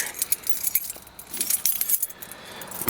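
Keys jangle and clink close up, light, rapid and metallic, on a 1995 Chevy Caprice police package wagon.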